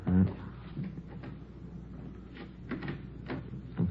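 A hotel back door opening as a radio drama sound effect: a dull thud at the start, then soft clunks and rattles, fairly quiet and close.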